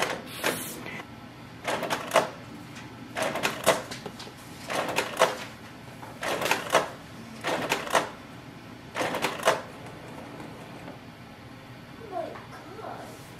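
A Canon PIXMA G3270 inkjet printer runs a printhead cleaning cycle, giving about seven repeated mechanical whirring and clacking bursts at roughly even intervals, fairly close, then settling quiet.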